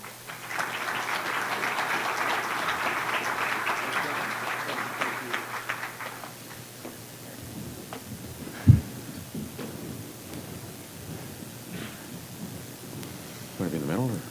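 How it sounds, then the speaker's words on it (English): Audience applause for panelists at a MobileMonday Toronto carrier event, a clapping crowd for about six seconds before it fades into murmuring voices and a sharp thump. "So let's give a round of applause to Alec, Anthony, and Jeff."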